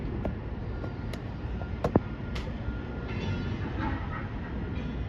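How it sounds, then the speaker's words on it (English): A one-car DART Green Line train rumbling past close by, a steady low roar with occasional metallic clicks and squeals from the wheels on the track. "Oh, that's a train."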